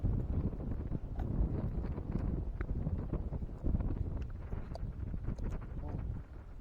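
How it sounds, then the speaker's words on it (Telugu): Strong wind blows hard across an outdoor village cooking spot beside an open fire, a steady rough roar buffeting the microphone throughout. "గాలి బాగా వస్తుంది. ఇలా నేను మాట్లాడేది మీకు వినిపిస్తుందో వినిపించలేదు కానీ గాలి మాత్రం ఘోరంగా వస్తుంది."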